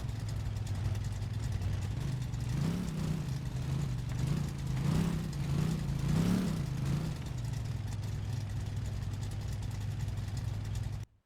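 A Chevrolet Impala's engine idles steadily nearby. It gives a run of gentle throttle blips and revs in the middle as the car is eased forward onto a ramp truck, then settles back to a smooth idle before cutting off.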